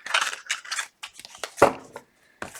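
A deck of tarot cards being shuffled at close range in a series of quick, crisp riffling and sliding bursts separated by short pauses, with no voices.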